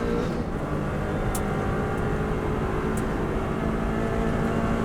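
A Subaru WRX STI at full throttle on the Isle of Man TT road course gives a steady, loud, droning engine roar heard from inside the car, with constant wind and road noise and no talking.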